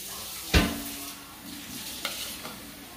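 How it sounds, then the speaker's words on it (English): A spatula scrapes muffin batter from a mixing bowl in a quiet kitchen: one sharp knock near the start, then soft, intermittent scrapes and faint taps. "Scraping the bowl a little bit"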